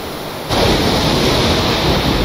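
Ocean waves in the Stormworks game surge in as a loud, dense wash of water noise that swells abruptly after a quieter start and then roars steadily, with no talk.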